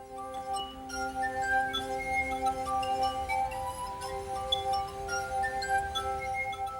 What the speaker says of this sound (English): out of this very ordinary glass comes an extraordinary sound that is within the glass all the time